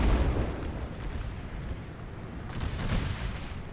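Artillery and musket fire in Napoleon Total War, in a Gettysburg American Civil War mod battle at Culp's Hill: a continuous rumbling roar of booms and crackling shots, loud and dense throughout with no talking.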